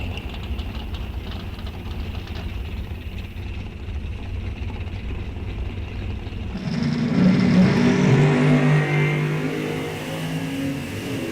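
Drag racing cars, including the Shake and Bake Camaro, launching down a strip: a steady loud engine roar that swells abruptly into a harsher, revving burst midway, then holds high.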